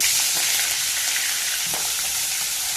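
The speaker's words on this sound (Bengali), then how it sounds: "মাছের মাথাটা একটু ভেজে নিচ্ছি" Steady, loud sizzling of hilsa fish heads frying in hot mustard oil in a kadhai, a continuous crackling hiss with small pops throughout, close up and without talk.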